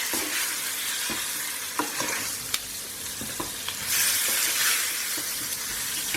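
Eggplant and potato masala frying in a pan, stirred after lemon juice is added, a continuous close sizzle with regular scraping and tapping strokes and a brief surge in hiss near the four-second mark.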